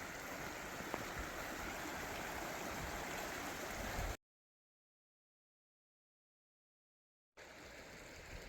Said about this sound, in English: You just follow this little stream down.